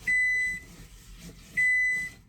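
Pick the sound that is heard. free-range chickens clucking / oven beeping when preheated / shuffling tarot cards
oven beeping when preheated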